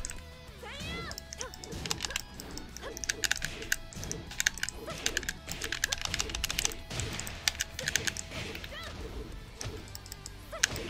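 A Razer fight pad controller for PS4 gives off rapid, clicky button presses in quick irregular bursts, like keyboard typing, during a fighting game, with game sounds and a voice in the background.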